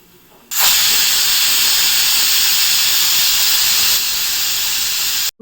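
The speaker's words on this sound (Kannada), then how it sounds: "ಕುಕ್ಕರ್ ಲಿಡ್ನ ಮುಚ್ಚಿ ಒಂದು 3 ವಿಷಲ್ ಕೂಗಿಸ್ಕೊಳ್ಳಿ." A pressure cooker cooking palak dal releases a loud, steady steam hiss and whistle that starts abruptly, holds for several seconds, then cuts off, close by with no talk.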